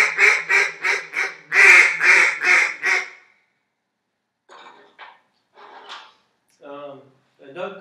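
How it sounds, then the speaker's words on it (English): An acrylic duck call with a reed and cork, blown in a run of about eight loud, nasal quacks close to the listener, then a pause and a few quieter, scattered calls. "I'll give you a little demonstration about what a duck call sounds like."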